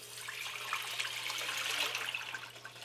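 Water from a 2-quart jug pours into a cooking pot for making arroz con leche, a steady soft splashing stream that runs throughout at low level, without speech.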